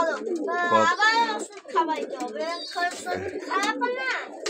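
A sick pigeon with a mild cough and phlegm gives squeaky, warbling calls close by, with a couple of low, soft coos mixed in.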